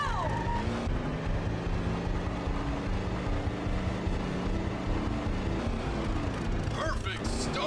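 A car engine in a Wii racing game drones and shifts pitch as the car accelerates, with a person talking over it.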